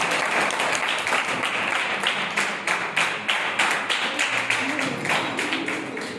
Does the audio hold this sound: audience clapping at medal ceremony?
yes